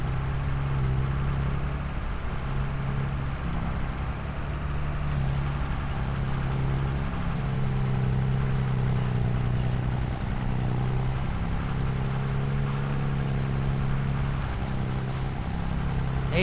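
A tractor engine in a farming video game, working a carrot field during weeding, drones as a steady low hum with a faint shifting tone throughout, moderately loud and continuous with no talking.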